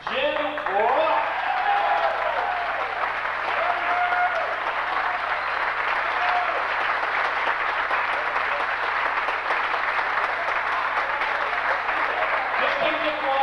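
Sustained, dense applause from a banquet audience at a 1989 wrestling awards event rolls on steadily for over ten seconds, with a voice briefly heard near the start.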